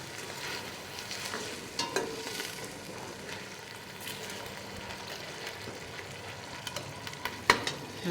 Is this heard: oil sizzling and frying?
yes